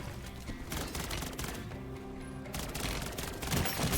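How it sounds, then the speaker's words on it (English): Continuous rapid gunfire from a silenced weapon, a Rival 9 fitted with an aftermarket kit, in a shooter video game, dense and sustained over a busy game soundscape, growing louder toward the end. "He either reacted to the shooting, which was weird because I have a silencer in this gun"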